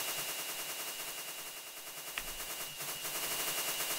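Minecraft fireworks explode in a video game, a continuous dense crackle of many overlapping bursts with a few louder pops, steady throughout and without talk.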